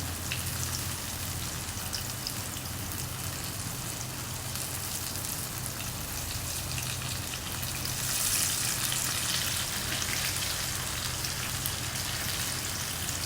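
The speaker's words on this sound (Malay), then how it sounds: "kita masukkan dekat dalam deep fryer" Sweet potato fritters sizzling in a deep fryer, a dense, steady crackle and hiss of bubbling oil that swells slightly midway, with no voices.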